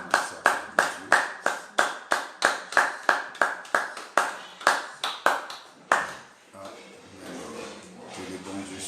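A congregation claps in steady, rhythmic unison during a midday prayer service, loud and close, about seventeen sharp claps before the applause breaks into a looser wash of noise and voices.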